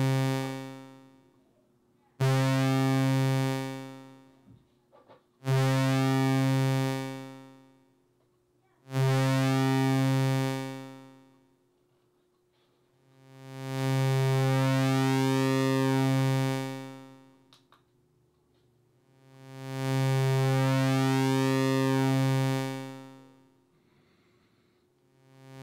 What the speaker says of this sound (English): bring up the attack and the release to make a really long note